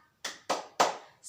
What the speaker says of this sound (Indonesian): ayo kita lakukan tepuk semangat